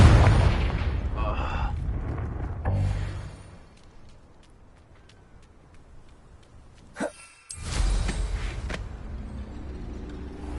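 A Confringo spell blast in Hogwarts Legacy: a loud booming burst at the start tails off into a quiet rumble, then a sharp crack and a second heavy eruption follows.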